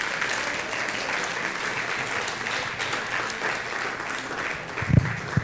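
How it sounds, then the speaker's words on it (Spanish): Congregation applauding during a Sunday church service, a sustained, moderately loud wash of clapping from a crowd, with a couple of louder thumps near the end. "Dele un aplauso"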